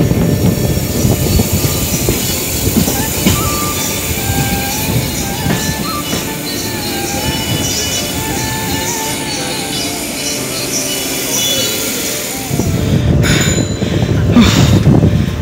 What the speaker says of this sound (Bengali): দেখুন ট্রেনটা কত সুন্দর রাউন্ড করে যাচ্ছে